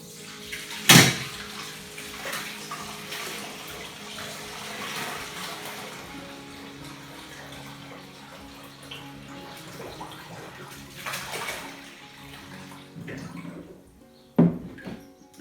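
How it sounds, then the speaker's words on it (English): Elderflower champagne liquid pours through a colander lined with a boil-washed net curtain, a soft steady trickle of running liquid with a few sharper clunks and splashes along the way. "I'm going to filter this liquid through the colander and my sterile boil wash cleaned net curtain"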